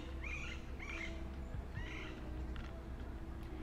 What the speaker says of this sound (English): We're gonna let those birds sing every time they do